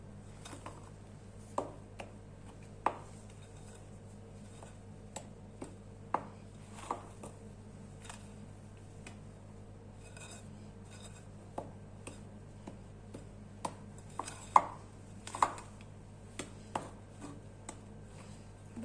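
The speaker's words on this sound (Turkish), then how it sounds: "bir tatlı kaşığı kabartma tozu ekliyoruz ve bunları bir güzel karıştırıyoruz" Cookie dough for hazelnut chocolate cookies, made without butter or margarine, being mixed with baking powder. Scattered sharp clicks and taps of a utensil on a bowl come at an irregular pace over a steady low hum, with no talk.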